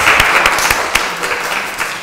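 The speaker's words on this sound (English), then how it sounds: "So a big clap for Olivia." Audience applause at a nursery school graduation ceremony, a steady sustained patter of many hands clapping throughout, fairly loud and continuous with no talk over it.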